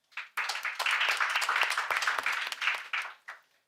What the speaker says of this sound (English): we'd actually need to give a round of applause for that